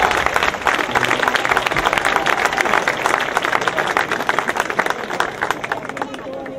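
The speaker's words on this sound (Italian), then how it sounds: "E lo facciamo un applauso a Piero" Live audience at an Italian summer concert event applauding loudly and steadily, a dense wash of clapping with crowd noise throughout.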